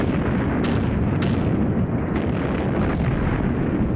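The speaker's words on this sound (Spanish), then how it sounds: "se levantó la salva de cañonazos más tremenda que haya visto nunca" Thunderous artillery barrage from a First World War cannon salvo, a continuous deep rumbling roar with several sharper blasts standing out, loud and sustained throughout.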